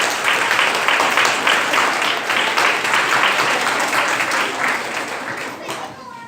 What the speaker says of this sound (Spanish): un aplauso para Álvaro